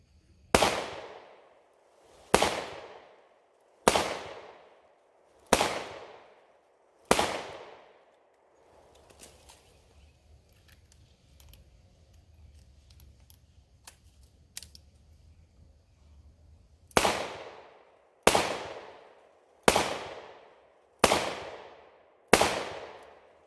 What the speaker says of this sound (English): So let's go ahead and put 5 rounds through this